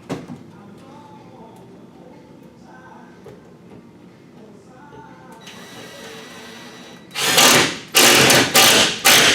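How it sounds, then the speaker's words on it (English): A power drill boring through wall paneling in a grinding loft, heard as several short, loud bursts close by near the end, after a long stretch of quieter background murmur. "Now, drill this off."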